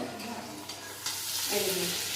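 Giant river prawns fry in hot oil, a soft hiss that swells into a steady, louder sizzle partway through, with light stirring and faint background voices.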